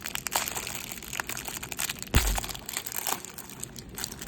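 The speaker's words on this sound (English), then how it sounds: "we're just tearing into this. This rack pack just does not want to give up the goods" Plastic wrapper of a 1986 Topps baseball card rack pack being torn and crinkled by hand, a steady close crackle broken by one sharp rip near the middle, with no talking.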